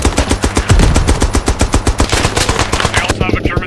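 Machine gun fire in the First World War game Beyond the Wire, set at the Battle of Arras: loud, steady bursts of evenly spaced rounds in a fast rhythm, close and dominant, easing off near the end.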